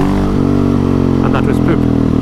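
A motorcycle engine runs loud and close throughout, its steady harmonic drone dipping and shifting pitch as the rider changes gear on wet ground, with a voice speaking over it.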